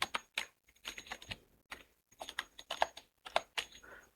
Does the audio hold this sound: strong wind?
no